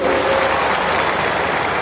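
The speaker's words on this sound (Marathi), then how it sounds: "आपण जोरदार टाळ्या वाजून देवाभाऊंना धन्यवाद देऊ" A crowd at a political stage event breaks into loud, dense, sustained clapping that fills the whole moment, with no voices over it.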